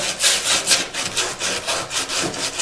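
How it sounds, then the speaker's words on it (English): Emery cloth rubs back and forth along a wooden edge in steady, close, rhythmic strokes, about two or three per second, to chamfer it on a small woodshop router bench. "kind of chamfer it a little bit with some emery cloth or whatever you have"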